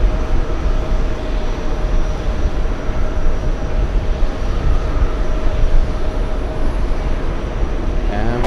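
Broad steady roar of a jet airliner passing at JFK airport, a sustained wash of engine noise holding level throughout with a faint tonal whine layered in.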